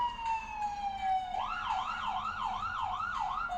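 An emergency siren sweeps down, then switches to a fast wailing up-and-down pattern, fairly clear and moderately distant.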